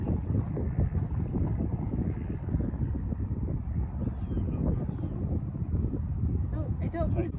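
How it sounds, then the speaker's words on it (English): Steady outdoor wind buffeting the microphone, a constant loud rumble throughout, with people chatting underneath at a pregame gathering. "The wind keeps turning."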